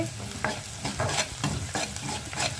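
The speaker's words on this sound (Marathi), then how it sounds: "त्याला मस्त भाजून घेते, मीठ टाकते, कांदा लवकर भाजेल, हळद थोडीशी पण टाकते" Chopped onion fries in a pan with salt and turmeric, a steady soft sizzle broken by repeated scraping stirs of a spoon at a quick, uneven rhythm, close and fairly quiet.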